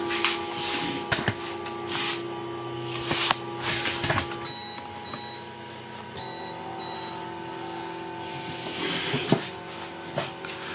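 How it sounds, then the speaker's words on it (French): Short electronic alert beeps in quick pairs from a QIDI i-Mate S 3D printer starting a print, faint and high-pitched over steady fan hum and mechanical whirring. "ça c'est un bip d'alerte, c'est normal, elle lance son impression"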